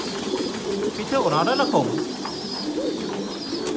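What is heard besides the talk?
Thai Titan pigeons cooing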